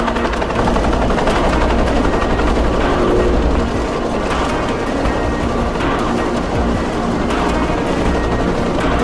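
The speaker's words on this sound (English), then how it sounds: "a chopper outside waiting for you" A helicopter idles outside with a loud, steady rotor and engine drone that stays continuous throughout, with rapid chopping pulses and mechanical rattle but no voices.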